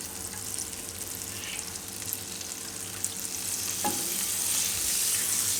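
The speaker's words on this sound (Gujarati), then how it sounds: "એમાં આપણે આ જે માખણ લીધું હતું એ નાખી દેવું. થોડુંક એને ઓગાળી લેવાનું." Butter melting in a hot kadai for mint pasta, giving a steady broadband sizzle with soft stirring scrapes and a brief utensil clink near the end, close and moderately loud with no talking.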